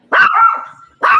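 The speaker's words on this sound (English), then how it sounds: "Oh my God, that puppy is so cute." A puppy barks twice, close and loud: a sharp yelp that trails into a drawn-out whine, then a second short bark after a brief pause.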